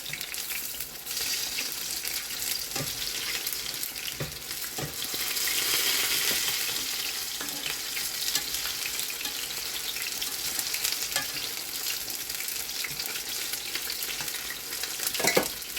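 Crispy tofu fritters frying in oil in a pan, a steady close sizzle with bursts of crackle and occasional soft taps from turning pieces, swelling slightly midway and continuing without voices.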